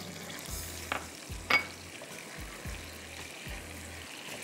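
A tablespoon of chopped ginger fries in hot oil, cooked alongside eggplant. A quiet, steady sizzle runs under soft, regularly spaced stirring knocks and a couple of brief clinks.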